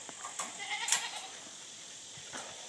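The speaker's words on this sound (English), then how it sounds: "So Sherman, how long have you been milking goats?" Goats bleat faintly at a farm milk stand, with one or two short, distant calls over a soft background hiss.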